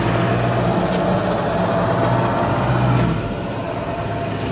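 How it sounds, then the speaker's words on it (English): A loud truck rumbling past at night in a street, a broad, heavy engine roar that stays strong for about three seconds and then begins to fade. "why is that truck so loud?"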